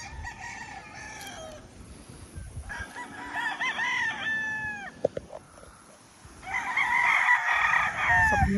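A gamecock rooster crows several times nearby, with long harmonic calls rising and trailing off, separated by short gaps and a few clucks, over faint outdoor background noise.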